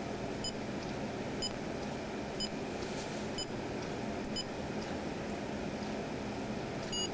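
A Mikona digital camera's self-timer beeps: short, high, faint electronic beeps repeat at a steady pace of about one per second over a constant background hiss.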